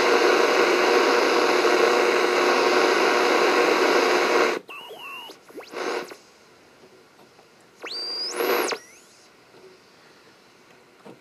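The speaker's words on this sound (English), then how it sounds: "Turn on our AM radio. And we're going to get a lot of static." Loud, steady hiss of AM radio static from a Snap Circuits electronics kit radio for about four seconds, then cutting to quieter stretches with rising and falling whistling tones as the tuning is adjusted.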